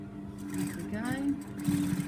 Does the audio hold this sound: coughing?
no